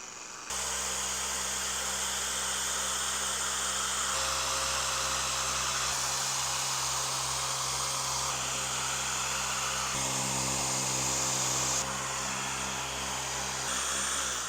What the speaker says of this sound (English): I think I'm going to use the polisher this time and just really try to work it in.